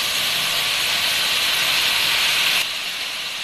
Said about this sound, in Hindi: अब हम इसमें हमारा जो शुगर का वाटर था उसे ऐड करेंगे।